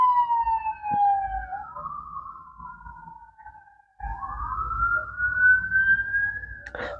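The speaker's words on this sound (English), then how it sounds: "sirens distracted me a little bit." Police car sirens wailing as the cars pass by, rising and falling sweeps with a brief dip before a louder second siren swells up nearby.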